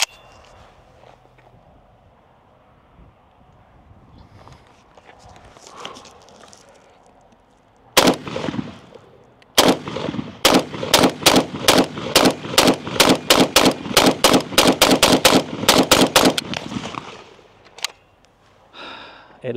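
A PSA Krink rifle fires steel case ammo outdoors. A couple of single shots come first, then a long string of loud, rapid reports in quick succession. Footsteps and faint movement are heard before and after.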